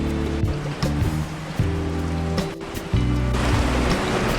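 Heavy rain pours outside in an animated moral story, a loud, continuous rushing hiss over low, sustained background music notes, staying dense and steady throughout.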